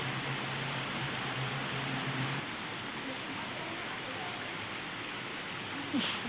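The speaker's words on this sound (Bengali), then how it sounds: "দেখো বন্ধুরা, ঝমঝম করে বৃষ্টি পড়ছে।" Heavy rain pours steadily during a storm, a dense, continuous hiss of constant loudness throughout, with a faint voice murmuring low underneath in the first couple of seconds.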